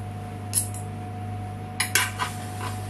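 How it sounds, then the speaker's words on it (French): Butternut squash pieces stirred in a frying pan: a few sharp clinks and scrapes of a utensil against the pan over a low steady hum, first a single knock, then a quick cluster of three or four. "On va les mettre directement dans la poêle. Et je vais les mélanger au reste."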